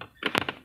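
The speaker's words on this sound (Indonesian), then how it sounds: "Lalu ada laci kecil" A small interior drawer in a 2003 Mercedes-Benz E240 W211 clicks and thunks open in a few quick, close plastic knocks, crisp and near.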